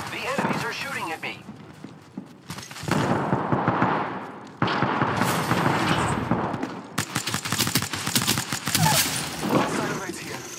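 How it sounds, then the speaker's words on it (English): Enemy gunfire in the Apex Legends video game, with repeated loud bursts and rapid volleys of shots running through the whole stretch, mixed with other game sounds and voices. "The enemies are shooting at me."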